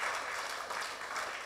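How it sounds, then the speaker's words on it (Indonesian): Mourners at a Christian memorial service give a short, soft round of steady clapping, heard faintly from a distance. "kita berikan tepuk tangan ya."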